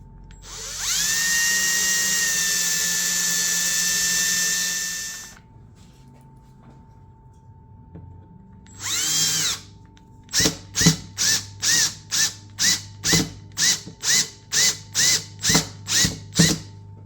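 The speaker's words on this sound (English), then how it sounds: "I'm just going to drill a little bit of hole" Power drill boring a small hole in a wooden floating frame: a long steady whine, a short second burst, then a rapid series of about a dozen quick pulsed trigger bursts, close and loud.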